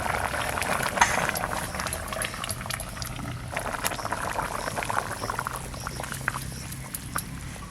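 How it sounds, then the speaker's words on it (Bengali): Hilsa fish curry bubbling vigorously in a pot on the stove, a steady rolling boil with soft popping and gurgling throughout, fairly close and alone. "দেখো কি সুন্দর জাল হচ্ছে, মাছের গন্ধ বেরিয়ে গেছে, জোরে জোরে জাল দিচ্ছে, দেখেন টকবক টকবক করে ফোটে"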